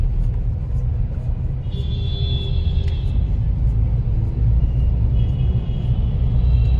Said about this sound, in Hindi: एक तो ट्रैफिक बहुत हो रहा है